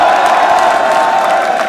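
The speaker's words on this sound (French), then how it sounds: "moi je voudrais qu'on les applaudisse" Crowd at a French rap battle event in Lyon applauding and cheering loudly and steadily, a dense wash of claps and shouts with no break.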